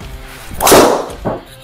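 A golf driver cracks into the ball during a speed-training session, giving one sharp, loud thwack with a brief ringing tail, followed by a quieter second knock a moment later.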